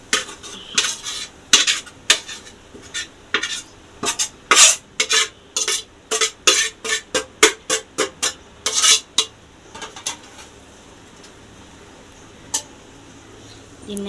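Egg fried rice being stirred in a kadai: a spatula scrapes and clinks rapidly against the metal pan, fairly loud and close, with a faint sizzle underneath and a slower tapering toward the end.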